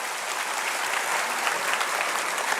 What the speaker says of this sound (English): You don't want to give a round of applause to your city?